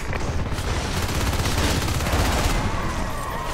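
Dense, continuous gunfire from the video game Natural Selection 2, a rapid barrage of overlapping shots, loud and without pause.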